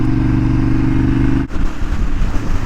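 A motorcycle ridden over Guanella Pass at high elevation, the engine droning loud and close with a brief dip, then rougher rumbling and wind buffeting.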